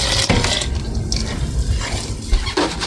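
Boiled blackberry mead mixture is poured into a primary fermenter, giving a steady, fairly loud liquid pour with splashing and trickling through the whole stretch and a few brief knocks near the end.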